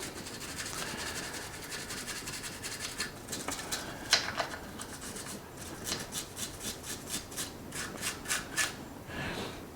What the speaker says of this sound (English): And give that a good scrub down as well.